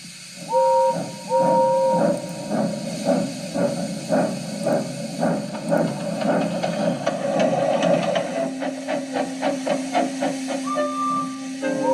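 A steam engine chuffs along in steady rhythmic puffs with constant hissing, short whistle tones sounding near the start and again at the end.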